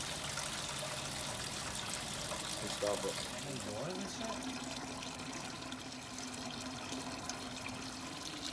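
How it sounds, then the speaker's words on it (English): Hot 165-degree sparge water pours over a mash bed and runs out into a brewing kettle, a steady faint splash and trickle under a brief spoken remark. "We're gonna dump our hot 165-degree water over the top as it's coming out the bottom into the kettle"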